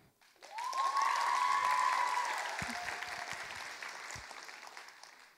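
Theatre audience at a regional stage show in Amos breaks into applause, swelling quickly into a full, sustained round of clapping with a cheer rising over it, then slowly tapering off near the end.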